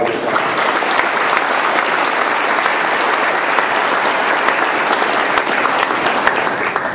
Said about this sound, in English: So let's give a round of applause to all of you.